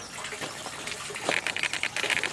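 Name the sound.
water draining from Dutch buckets back to catch basin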